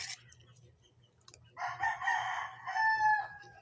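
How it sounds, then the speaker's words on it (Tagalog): A rooster crows loudly and close by, one long drawn-out call that rises and trails off, following a quieter stretch with faint background hum. "mga manok ni Chris o gagmay pa ba?"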